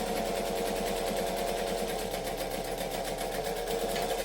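Close and steady, a sewing machine runs without pause as it top stitches along vinyl, its rapid even needle rhythm holding throughout.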